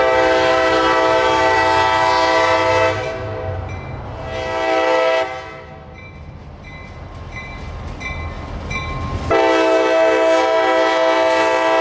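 A local freight train hauling twenty empty auto racks rolls past near Tampa, Florida, loud and close, its horn blaring in long sustained blasts with rumbling wheels and a rushing wash between them.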